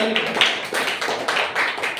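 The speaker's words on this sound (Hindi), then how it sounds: "एक बार इनके लिए भी जोरदार तालियां बजाइए।" An audience claps hard for a reserve candidate at a ceremony honoring competitive exam winners, a thick burst of many hands close by with voices mixed in.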